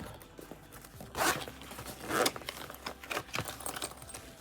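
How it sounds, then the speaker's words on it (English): Double zippers on a thrifted travel case bag are pulled open in a few quick rasping bursts with light handling rustles between them, close and fairly quiet. "Good travel case. It has double zippers."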